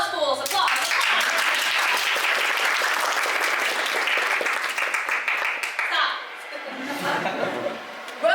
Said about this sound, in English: Applause, fools, applause!